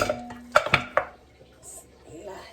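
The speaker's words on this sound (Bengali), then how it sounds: "এই মাংসগুলো আগে পাতিলে দিয়ে নেই" Chunks of meat dropped into a metal cooking pot, giving a few sharp clanks and clatters close by, then quieter rustling and shifting, with no talking.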